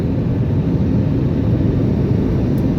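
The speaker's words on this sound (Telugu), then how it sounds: "ఢిల్లీ ల్యాండింగ్ అవుతుంది ఫ్లైట్." An airliner lands at Delhi airport, heard as a loud, steady broadband roar of engines and rushing air that holds constant throughout without a break.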